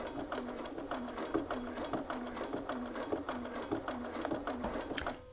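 A home sewing machine stitches a fabric shirt pocket in place, running steadily with a rapid rhythmic whir and small ticks throughout, close and fairly quiet.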